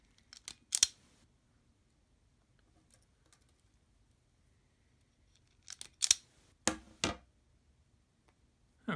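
Sharp, close snips of wire cutters trimming fightstick wiring, in quick isolated clusters of two or three clicks separated by quiet pauses.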